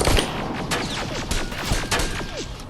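Rapid gunfire crackles in the shooter Terminator: Resistance, a dense burst of sharp, closely spaced shots with no talking.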